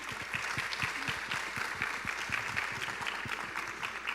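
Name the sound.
audience applause for panel guest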